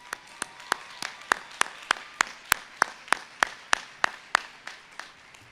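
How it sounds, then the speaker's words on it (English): Sharp, evenly paced claps from someone nearby ring out over a faint bed of scattered crowd applause at an outdoor spring university commencement ceremony. "Give every one of them a round of applause"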